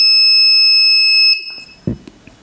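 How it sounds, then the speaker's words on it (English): A steady high-pitched electronic fire-alarm buzzer from a home automation system drones continuously, then cuts off abruptly, followed by a few faint clicks and a dull thump. "this is fire status 100 and alerting on buzzer also"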